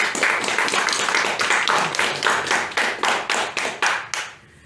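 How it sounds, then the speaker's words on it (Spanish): Audience clapping at a book presentation for "El niño del viento", starting as a dense burst and thinning into slower, distinct claps that fade out near the end. "Un aplauso."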